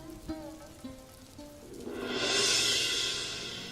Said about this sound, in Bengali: বৃষ্টি যে শুরু হলো।